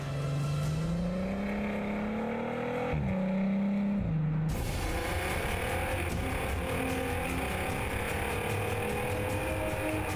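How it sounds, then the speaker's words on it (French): An Artega GT sports car with a transversal Volkswagen 3.6-litre V6 and sport exhaust revs and pulls hard, engine pitch climbing, dipping at a gear change, then roaring on with loud continuous exhaust and road noise. "Grâce à un système d'échappement sport, l'Artega est une musicienne."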